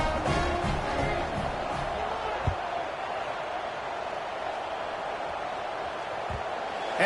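Stadium crowd in an American football video game, a constant roaring murmur of cheering fans that holds steady and fairly loud, with a couple of brief thuds.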